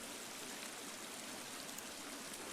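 Steady rushing water from waterfalls and a stream in a cave in The Forest video game, a continuous even hiss filling the space without breaks or voices.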